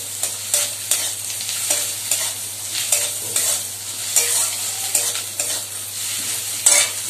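Onions and ginger fry in a pan with a constant hiss, broken by a steady series of sharp scraping clinks from a utensil stirring against the metal, close up and with no talking.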